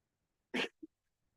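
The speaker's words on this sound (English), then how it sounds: "or we're just going to cough?" A single sharp cough in an audit committee meeting, close and fairly loud, followed by a brief soft throaty sound, then quiet.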